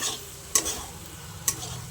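Soybean chunks and ground spices, cumin and turmeric powder, cooking in a pan: two sharp spatula scrapes stand out over a low, steady sizzle, with no speech.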